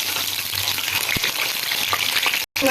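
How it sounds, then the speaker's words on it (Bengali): Potatoes sizzle hard in hot oil, a dense, close crackling hiss that runs on without voices and drops out for a moment just before the end. "তেল গরম হয়ে গেছে তেলের মধ্যে প্রথমে আলুগুলো দিয়ে দেবো"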